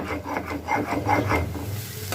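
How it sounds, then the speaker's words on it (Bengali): Mustard seeds are ground by hand on a grinding stone, giving rhythmic, rasping back-and-forth rubbing strokes, close and fairly loud, with no talking. "সর্ষেটা এবার আমি বেটে নেবো"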